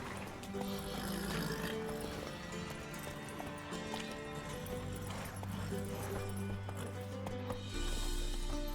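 Horses in a stable in The Witcher 3 video game, hooves clip-clopping steadily with an occasional whinny, close and loud over a low game music bed.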